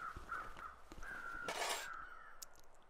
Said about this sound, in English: there's also a body, it seems, because crows are circling